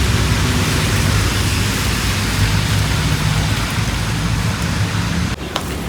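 Rain pours steadily outdoors in a rural area, a dense, loud, unbroken hiss with a brief dip near the end.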